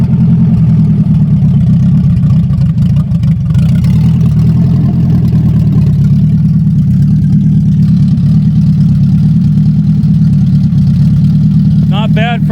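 A steady, low engine rumble runs throughout, a tuned Honda Civic's motor idling evenly after sitting unused for years, close and loud, with a brief higher chirp near the end.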